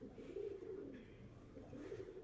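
A small bird calls indoors with soft, low cooing phrases, faint and close, repeating over a couple of seconds with no talk.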